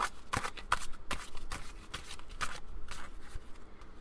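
Cards being shuffled in quick riffling bursts, a steady rhythm of crisp flutters close to the microphone, with no talking.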